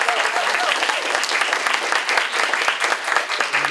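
Audience applause for Dr. Ryder at a 3 Minute Research Competition, a steady dense clapping from a room of people that holds level throughout with no talk over it.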